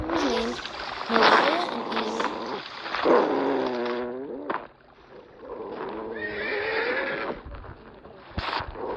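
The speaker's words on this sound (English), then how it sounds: "Horses." Several horses whinny loudly and repeatedly close by, their neighs rising and falling, with scuffling hoof and ground noise mixed in.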